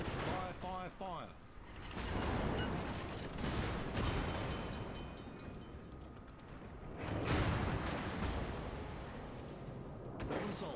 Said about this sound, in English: We've blown up an Allied destroyer.